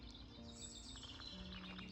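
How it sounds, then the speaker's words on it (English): Birds chirp and sing faintly outdoors in the Spanish countryside along the Camino Primitivo, with thin high calls over a steady low background hum. "Can you hear the birds?"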